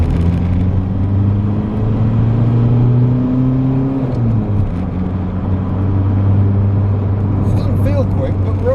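A Citroen CX diesel in second gear labors hard and loud from inside the cabin, its coarse drone rising steadily in pitch and then dropping briefly as the revs shift before the engine pulls on.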